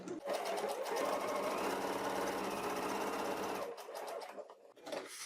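A sewing machine stitches a fabric notebook cover with a zigzag stitch, a fast even mechanical chatter that runs steadily for several seconds, then slows into softer, uneven stitching.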